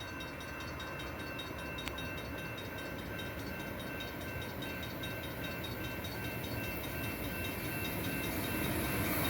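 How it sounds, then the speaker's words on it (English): An Amtrak San Joaquin passenger train with an SC-44 locomotive passing by at W Ashlan Ave, bound for Bakersfield: a loud, continuous roar of rolling wheels and engine close by, steady and building slightly at the end. "Here comes San Joaquin train 718"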